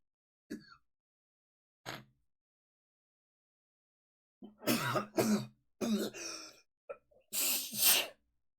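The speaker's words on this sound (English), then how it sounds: "just thinking about British food is making me cough" A few isolated short bursts, then a cluster of harsh coughs and sneeze-like expulsions close by, separated by silence.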